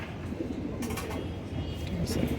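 Soft, repeated cooing comes from a female shuttle racer pigeon at a pigeon farm, steady and close, set against a dense background murmur of other birds.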